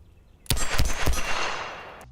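A Colt 1878 double-action revolver fires three rapid, loud shots about a third of a second apart, and the last report rings out into a long fading echo.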